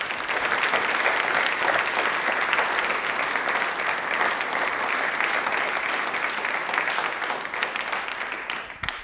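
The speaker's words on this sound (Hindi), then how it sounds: "तालियाँ।" Audience applause at a televised Indian Railways quiz event, a thick steady roar of many hands clapping that holds throughout and thins out only at the very end, with no talk over it.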